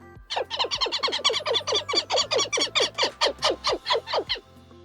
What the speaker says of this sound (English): Here's a burrowing owl.